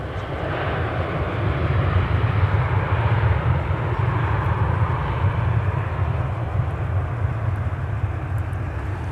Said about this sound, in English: There's a very little detail on that Sun Country 737-800 that just coasted in from Columbus, Ohio